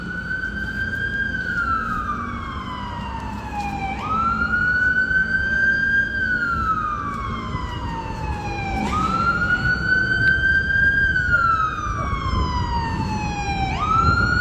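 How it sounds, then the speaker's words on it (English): An emergency vehicle siren wails loudly through New York City traffic, sweeping up and down in repeated cycles of about four seconds, close by over a low rumble of street noise. "Can't compete with the siren."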